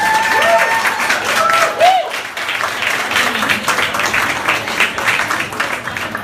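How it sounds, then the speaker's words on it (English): Warm audience applause at a live storytelling event, steady dense clapping filling the room, with some voices and whistles mixed in during the first couple of seconds. "Everybody give an applause to Luther, please."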